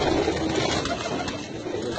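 Pigeons coo steadily from close by in a loft of simple homemade coops, their soft, overlapping calls running without a break under a faint background hiss.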